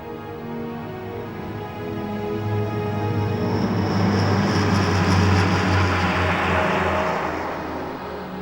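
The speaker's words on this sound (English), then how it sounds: "new bombers like this massive B-36" Massive Convair B-36 bomber's piston propeller engines droning steadily, the rumble swelling as the aircraft passes close overhead and then easing slightly, with no voices.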